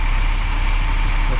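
A car engine idles low and steady close by, a continuous deep rumble with a slight uneven pulse.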